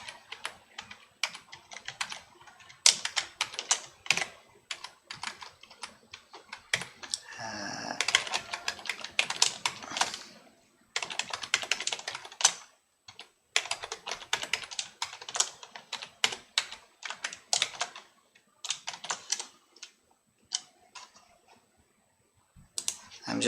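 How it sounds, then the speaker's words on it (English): Fingers type on a computer keyboard in quick irregular flurries of soft clicks and taps, broken by brief pauses and one longer stretch of rustling, all fairly quiet and close. "I'm just typing a name here that will be obvious."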